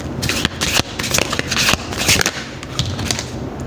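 Tarot cards being shuffled and drawn by hand, a steady close-up rustle of riffling and sliding card stock with quick flicks, continuous for a few seconds.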